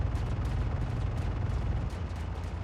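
Rifle gunfire in the Star Citizen video game rattles in a dense, continuous burst, loud and close with a heavy low rumble throughout.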